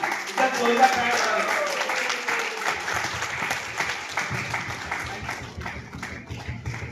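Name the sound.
audience applause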